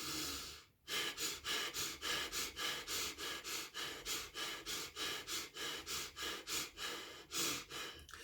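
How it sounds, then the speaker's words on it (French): A person does a rapid morning breathing exercise, forceful inhales and exhales with the belly held tight, about fifteen evenly spaced breath cycles in a steady quick rhythm, close and alone with no talk. "Et quand on inspire, il faut bien serrer le ventre."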